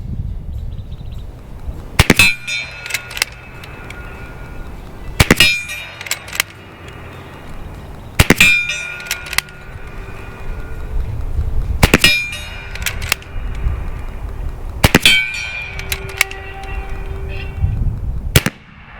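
A .30 caliber PCP air rifle, an AEA Challenger Pro, fires slugs that clang on a large steel gong: five loud, evenly spaced shot-and-ring pairs, each sharp crack followed by a metallic clang and brief ringing decay.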